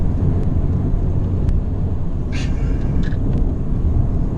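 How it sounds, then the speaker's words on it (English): Road noise fills the cabin of a 2017 Mercedes-Benz C250 Coupe at highway speed, a loud, constant low rumble with a few faint higher clicks over it. "there's a lot of road noise coming out from this car"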